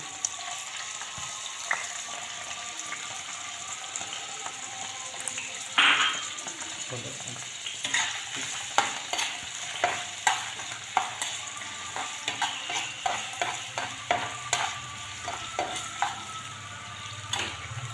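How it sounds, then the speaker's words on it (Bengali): Finely chopped carrots frying in hot oil for fried rice, a continuous close sizzle punctuated by a regular series of scraping stirring strokes in the second half. "গরম তেলের মধ্যে প্রথমে গাজর কুচি কুচি করে কেটে রেখেছিলাম"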